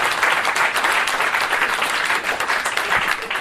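Steady applause from a crowd, dense clapping filling the whole stretch at a constant, fairly loud level.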